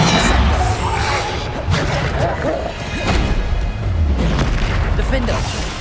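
Booming blasting-spell explosions go off repeatedly in a video game, heavy thuds and crashes landing every second or so over a dense, loud backdrop while a voice keeps calling out spell names.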